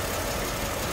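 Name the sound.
car engine idling with air filter removed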